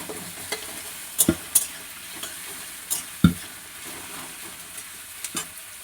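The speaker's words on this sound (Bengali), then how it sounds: "পেঁয়াজটা একটু ভাজা হয়েছে" Onion fries in a pan with a soft, constant sizzle, broken by sharp clanks and scrapes of a utensil stirring against the metal, close and without speech.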